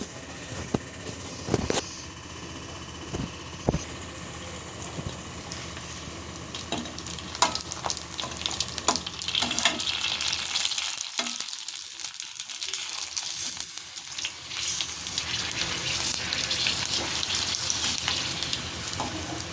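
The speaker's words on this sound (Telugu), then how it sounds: "గైస్, ఇప్పుడు ఆయిల్ హీట్ ఎక్కింది, ఇప్పుడు వేసుకుందాం." Pani puri shells fry in hot oil, a continuous crackling sizzle that grows busier and louder partway through, with a few sharp knocks early and talk over the start.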